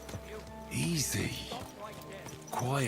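Horse in the video game Kingdom Come: Deliverance 2, with hoof clops and snorting or whinnying sounds close by, mixed with talk in a short clip.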